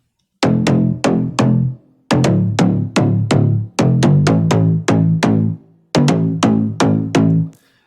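Several Serum synth bass layers stacked for a deep house track, with the sub removed, play alone as punchy, bright plucked notes in a steady repeating rhythm, grouped into short phrases separated by brief pauses.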